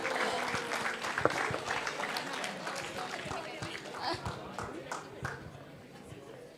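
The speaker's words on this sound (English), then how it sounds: "Can we have a huge round of applause?" An audience at a college event claps steadily, a dense patter of applause that gradually fades toward the end.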